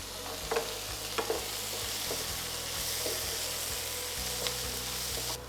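Peppers and chili flakes frying in oil in a pan, a steady soft sizzle with occasional clicks and scrapes of stirring.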